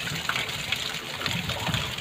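Old water draining out of a fish tank during cleaning, a continuous gushing, splashing flow heard close and fairly loud, with no talking.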